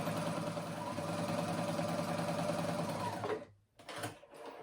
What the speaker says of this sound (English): just put in that straight stitch all the way through the fabric